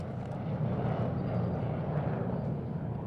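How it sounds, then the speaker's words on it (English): A propeller airplane drones overhead in the World War II shooter game Return to Castle Wolfenstein at an air base, a low, steady rumbling engine roar passing by with no talk. "There goes the plane."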